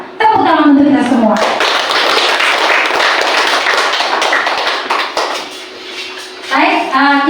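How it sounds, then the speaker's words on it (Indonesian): An audience in a school session bursts into loud, sustained clapping right after a voice, the applause holding steady for about five seconds and then fading as speech resumes. "Tepuk tangan untuk kita semua."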